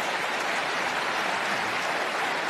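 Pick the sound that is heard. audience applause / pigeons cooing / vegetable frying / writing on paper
audience applause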